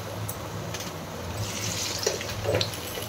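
Tap water runs steadily over shrimp being rinsed in a kitchen sink, a continuous close splashing stream with a few louder splashes near the end.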